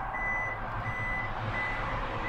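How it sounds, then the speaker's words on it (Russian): The power tailgate of a new Toyota Prius closes at the push of a button while a steady warning beep repeats at a regular pace over a low continuous motor hum. "Багажник закрывается с кнопки."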